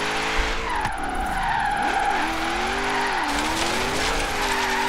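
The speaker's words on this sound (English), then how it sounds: "Yeah, this car just roasts tires." Sustained tire squeal and skidding from a Nissan S15 drifting in Forza Horizon 3, loud and continuous with wavering pitch as the car slides and the engine revs, close up and with no voices.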